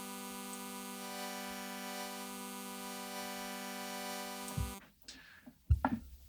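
Serum synth wavetable tone with spectral morphing, a steady sustained harmonic drone holding evenly for about four and a half seconds, then giving way to brief soft noises.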